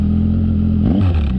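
Triumph Tiger 800 motorcycle with a Lextek VP1 full exhaust, pulling under load with a loud, close, deep droning engine note that rises in pitch as it accelerates near the end.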